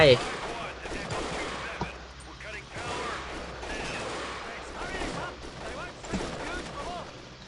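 Gunfire in the video game Delta Force: Black Hawk Down, with dense bursts and scattered shots crackling on and off throughout, mixed with game noise and voices talking over it.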